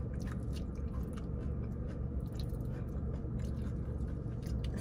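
Close, steady munching and chewing of food, a continuous moist crunching and squishing that fills the whole stretch with no talk over it.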